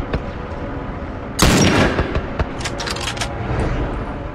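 A tank fires in The Last of Us, a sharp booming blast followed by scattered cracks and impacts over a low rumbling game background.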